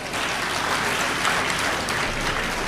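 A hall audience at a Tamil comedy speech event claps steadily, a moderately loud, even wash of applause with no voices over it.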